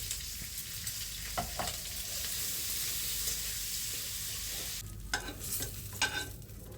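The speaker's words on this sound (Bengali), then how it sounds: "বেগুন ভাজা শেষ।" Eggplant frying in a pan makes a soft, even sizzle, broken by a few scraping stirs early on and a cluster of clattering utensil sounds toward the end.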